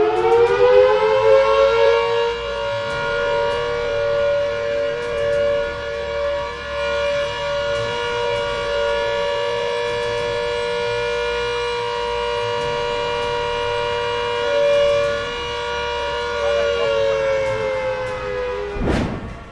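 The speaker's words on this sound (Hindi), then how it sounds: "इस मॉक ड्रिल के दौरान भी आपको कुछ इसी तरह के सायरन सुनाई देंगे" Civil defense air raid siren of the kind used in a mock drill, a loud steady wailing tone that swells at the start, holds a long sustained pitch, then winds down near the end, heard alone without talk.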